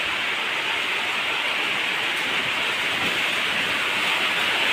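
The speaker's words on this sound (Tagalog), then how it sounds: "malakas masyado ulan" Heavy typhoon rain pours down in a dense, unbroken hiss, loud and steady throughout with no voices.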